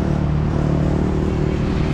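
Busy street traffic in Da Nang, Vietnam rumbles close and loud, with engines of cars and motorbikes blending into a continuous droning roar.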